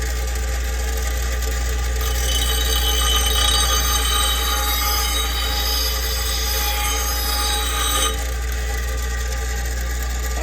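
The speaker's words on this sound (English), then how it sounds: "you don't have to press hard up against the grinder" A bench grinder sharpens a lawn mower blade: a loud, steady motor hum with a high whine, overlaid with a rough metallic grinding hiss that comes and goes as the blade is pressed to the wheel.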